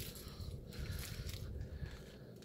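Soft, close chewing and biting on a Nip caramel candy, a continuous muffled sticky mastication with no talking.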